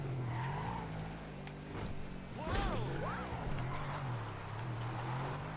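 Adder sports car in GTA 5 driving with a steady engine drone, broken midway by warbling tire squeals as it skids and drifts, fairly close and moderately loud.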